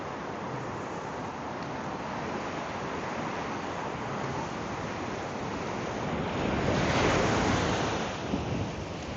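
Ocean surf rolls in steadily with a constant wash of noise, and one wave swells louder near the end before easing off. No voices are heard.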